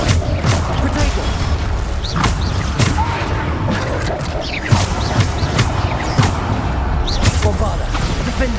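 Repeated Bombarda spell blasts in a Hogwarts Legacy duel, sharp booming impacts landing every second or so over a busy, loud battle din, with a voice shouting through it.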